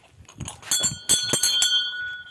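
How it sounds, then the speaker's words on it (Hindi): A temple bell rung at the Pipleshwar Mahadev ashram, with several sharp metallic strikes leaving a sustained ringing tone that lingers between hits, close and fairly loud. "घंटी बजाते हैं।"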